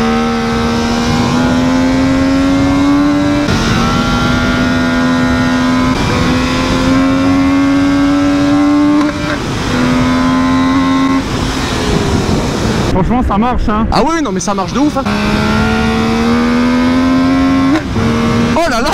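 MV Agusta Brutal 800 motorcycle engine revving hard and accelerating through several gears, a loud rising engine note with quick shift breaks and a crackling burst near the end, with a rider talking excitedly over it.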